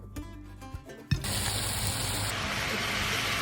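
Water poured into a cooking pan along with chicken bouillon hisses and gushes steadily after a brief clatter, close and fairly loud, with no talk over it.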